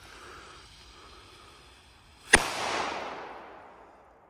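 A single China Böller D Diamond firecracker from 2009 goes off outdoors with one sharp, loud bang, followed by a few seconds of lingering rumble and echo that slowly fade.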